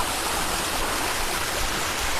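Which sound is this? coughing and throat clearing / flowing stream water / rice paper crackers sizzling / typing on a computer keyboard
flowing stream water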